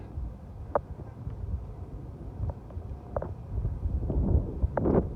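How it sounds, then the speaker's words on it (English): Gusty wind buffeting the microphone, a steady low rumble with occasional louder gusts, growing stronger toward the end. "Very windy."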